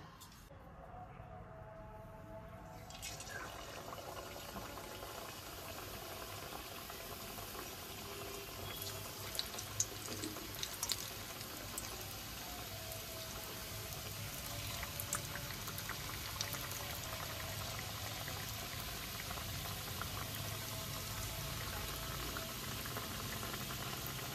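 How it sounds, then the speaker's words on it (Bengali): Chicken samosas dropped one by one into hot oil in a wok, giving a continuous bubbling, hissing fry that stays fairly quiet and even, with a few faint pops. "বন্ধুরা, সিঙ্গাড়াগুলো ভাজার জন্য আমি কড়াইতে তেল বসিয়ে দিয়েছি। তেলটা গরমও হয়ে গেছে। এবার আমি এক এক করে ছেড়ে দেব।"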